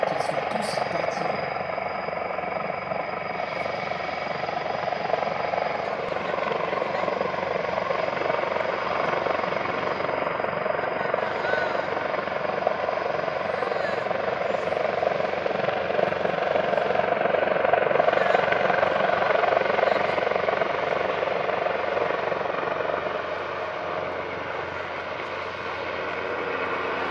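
An Airbus H225M (EC725 Caracal) French Army military helicopter during a troop extraction, its loud, continuous rotor thump and turbine roar holding steady close by for the whole stretch and easing slightly at the end.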